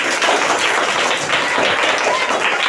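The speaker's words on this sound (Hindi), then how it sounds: "तो सृष्टि के लिए बहुत जोरदार तालियां बजाओ" A group of children clap loudly and continuously for a classmate's correct answer during a classroom guessing game, close and energetic with voices mixed in.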